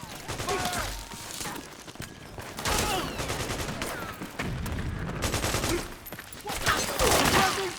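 Rapid bursts of automatic gunfire crackle in a Metal Gear Solid 4 battle scene, dense volleys from several weapons layered with booming impacts, loud and close, some stretches sounding like sustained suppressing fire.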